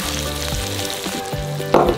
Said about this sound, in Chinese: 豆腐外面沾上一层薄薄的淀粉，这样煎出来的豆腐外面那一层呢会略微的发硬